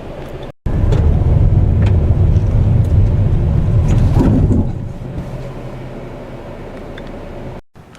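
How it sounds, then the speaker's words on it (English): A 2014 Mazda car rolls toward a cardboard target and its automatic emergency braking brings it to a stop, heard as loud steady road and wind rumble that drops off partway through and settles into a quieter hum. "the automatic braking system stopped the car just before the cardboard, all by itself with no help from me"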